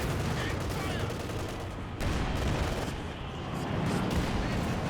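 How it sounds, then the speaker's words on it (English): Incendiary mortar fire in Company of Heroes 2, a dense barrage of battlefield explosions and shots rumbling continuously with a couple of heavier surges, loud and close with no quiet gaps. "Incendiary mortar there."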